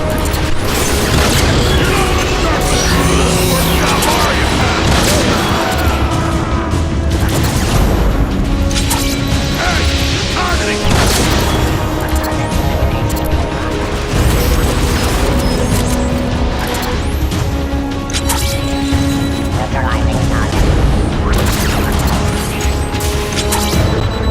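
Dense, continuous gunfire and clanking mechanical impacts from a Transformers: Fall of Cybertron battle, loud and busy throughout with metallic crashes and booms, a voice briefly heard.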